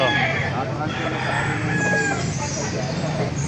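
A rooster crows at a busy Baliuag market among chickens for sale, a loud, drawn-out call over background crowd chatter and clucking.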